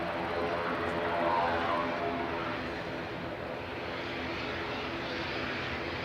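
Propeller airliner taxiing at Manchester Airport, a steady broadband engine drone at moderate distance that swells slightly early on and then holds even for several seconds, with no talk.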